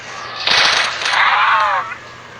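Automatic weapon fire in the Roblox game Zombie Tower, a dense rapid burst lasting about a second and a half, loud and close, with no talk over it.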